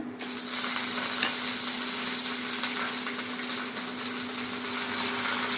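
Chana dal, curry leaves and red chilies crackle in hot oil for a tempering, making a continuous bright sizzle over a low, steady hum.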